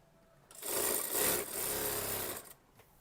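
Sewing machine stitching an Anarkali kurti panel, a single steady mechanical run of about two seconds that starts and stops abruptly, close and fairly loud with no talking.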